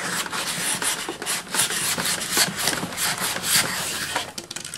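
Cardboard box lifted and slid off an upturned Wollensak T-524 vintage reel-to-reel mono tape recorder, giving a steady close scraping and rubbing of cardboard with foam packing, continuous with brief scuffing bursts and no talking.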